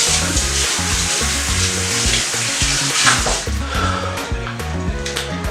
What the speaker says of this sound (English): Let me wash my hands before we get started.